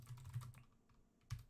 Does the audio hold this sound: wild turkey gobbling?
no